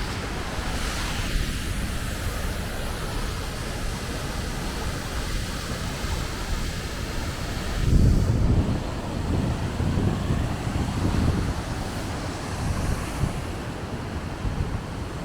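Roaring rush of the Rutor waterfall near La Thuile in northern Italy, a loud continuous wash of falling water heard close by, with a heavier surge of low rumble partway through and no voices.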